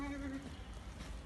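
Beetal-breed goat for sale at a home in New Karachi, one short bleat that fades quickly against a faint background.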